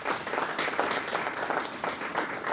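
Audience applause fills a conference hall at a project management institute annual conference, steady dense clapping from a crowd lasting a couple of seconds with no talk.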